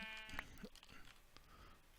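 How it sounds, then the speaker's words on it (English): A sheep in the Minecraft video game bleats once, a short wavering cry near the start, followed by faint game noises with no talking. "There's a sheep."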